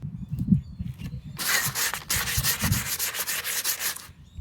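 Sandpaper is rubbed back and forth in quick, steady strokes, a loud rasping scrape that starts after a brief low rumble and runs on without talk.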